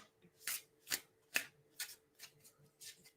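A Wild Unknown Tarot card deck being shuffled close by, with about seven quick, crisp bursts of card noise spaced at a steady rhythm against a quiet background.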